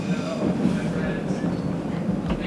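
Steady low rumble of a moving overnight passenger train in Vietnam, with faint rattling and clatter, continuous and fairly loud throughout, nothing else standing out.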